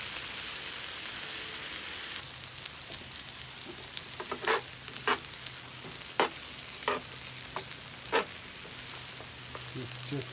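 Onion, pepper and marinated chicken thigh fry in a pan for quesadillas with a soft, steady sizzle, punctuated by several sharp clatters of stirring at irregular intervals.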